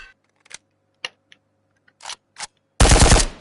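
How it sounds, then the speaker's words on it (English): Rifle fire in the VR shooter Ghosts of Tabor: a few sparse clicks and handling noises, then a loud, close burst of rapid automatic shots at the end. "Your rifle is now reloaded and ready to fire."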